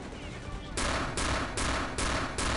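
Return to Castle Wolfenstein gunfire: five loud, rapid broadband bursts of shots in steady succession, close and dominant, following a quieter stretch of game background.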